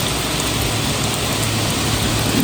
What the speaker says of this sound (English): It's absolutely tipping it down outside, and we keep getting thunder and lightning.